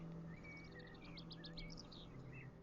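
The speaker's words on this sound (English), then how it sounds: "I love the birds. You can hear the birds," Small birds chirp and tweet repeatedly at a distance, their short high calls over a steady low hum.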